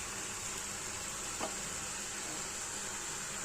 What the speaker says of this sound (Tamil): எண்ணெயிலே தான் வதங்குது, சரியா?